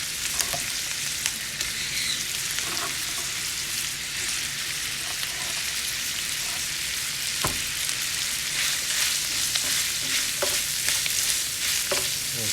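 Squirrel pieces and Thai eggplant fry in a pan with a steady, dense sizzle and crackle throughout, broken by a few sharp clicks of stirring.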